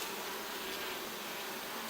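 Honey bees buzz in a steady, dense drone inside an open beehive, close and continuous with no voices.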